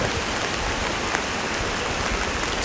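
Steady rain falls outdoors during an evening fishing outing, a dense, even hiss of drops on surfaces that holds at a constant level throughout, with no voices.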